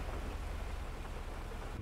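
Rain falls outside with a dense, steady hiss and patter, heard continuously at a fairly soft level without any voices.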